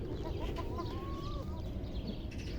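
Chickens and a rooster cluck and murmur nearby on a free-range farm over a steady low background hum, with a soft, drawn-out call rising and falling in the middle.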